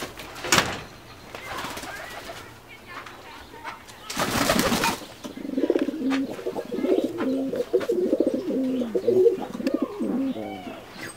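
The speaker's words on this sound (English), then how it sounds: "We'll go see the pigeons quick." Pigeons coo in a steady, low warbling series at close range, following a few sharp bursts of noise and rustling earlier on.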